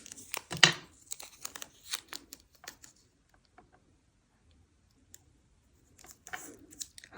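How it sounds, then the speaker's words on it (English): Masking tape is torn and crinkled while being laid over a rubber stamp, giving close, sharp bursts of tearing and rustling with a quiet gap in the middle. "I'm going to put a little bit of masking tape"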